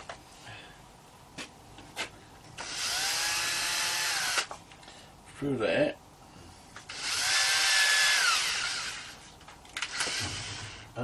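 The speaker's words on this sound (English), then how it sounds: "I'm going to put the drill through there." A power drill bores a hole while a router gear cutter is being built, in two sustained loud whirring bursts with a brief clatter between them. Someone speaks briefly before and after.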